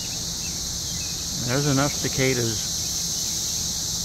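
Cicadas buzzing in trees at an RV park near Columbia, Missouri, a steady high-pitched drone that continues throughout as someone speaks briefly midway.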